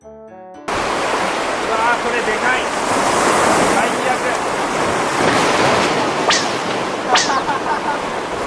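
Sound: ocean waves on the shore

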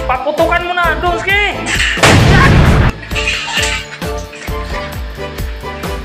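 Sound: firecracker explosion being set off

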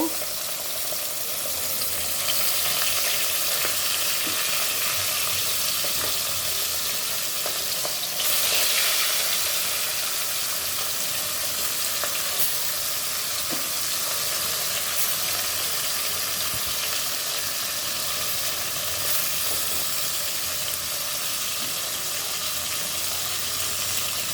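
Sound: fish frying in a pan

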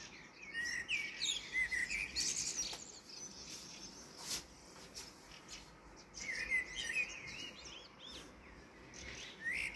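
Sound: blackbird singing

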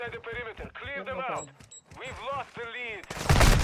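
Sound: gunfire in a video game

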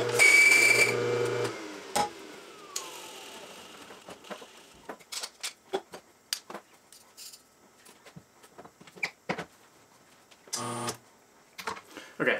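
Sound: La Marzocco GS3 rotary pump espresso machine brewing

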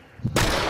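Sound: dual pistols firing in video game Hunt: Showdown

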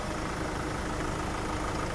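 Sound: diesel van engine idling

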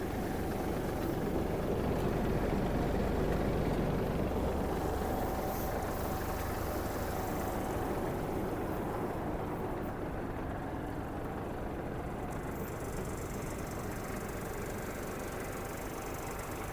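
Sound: Kubota GL-32 mini tractor engine running

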